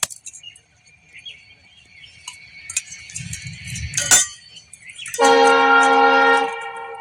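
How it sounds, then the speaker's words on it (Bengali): A train coming from Kokrajhar rumbles past near the tracks, then sounds a loud, sustained horn blast lasting over a second. "সেইখান কোকরাঝার থেকে ট্রেন।"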